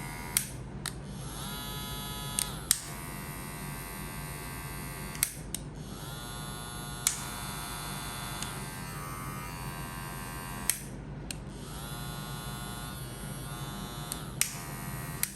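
A VGR V003 electric hair clipper hums steadily and very quietly in several runs, switched off and on with sharp clicks between them.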